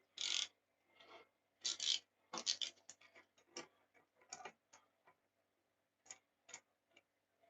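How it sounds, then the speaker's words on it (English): A rivet on the chain of a 2016 Suzuki GSX-R600 is worked with a tool, giving sparse, close metallic ticks and short scraping rasps in an uneven rhythm, with no voices. "Just working that rivet is what we're doing."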